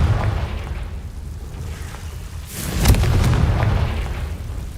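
A Confringo explosion spell from the Hogwarts Legacy video game goes off as one deep, rumbling boom with a sharp burst at its peak, sustained low roar before and after, loud and close.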